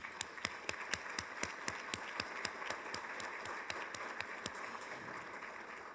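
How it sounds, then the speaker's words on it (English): Scattered applause from a small audience at a county luncheon, a few distinct sharp claps in an uneven rhythm, fairly faint and distant, with no talk over it. "Please give them a round of applause."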